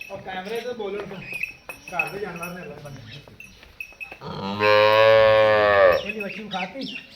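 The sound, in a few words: Cholistani Friesian cross cow mooing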